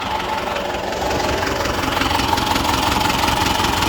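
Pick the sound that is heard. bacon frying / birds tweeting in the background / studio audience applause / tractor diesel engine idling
tractor diesel engine idling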